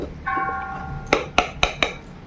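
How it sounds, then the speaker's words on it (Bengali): A mixer grinder jar set onto its base: several sharp hard clacks in quick succession, close and fairly loud, following a brief faint tone, with no talk. "এর মধ্যে মিক্সির জারটা বসিয়ে দিচ্ছি"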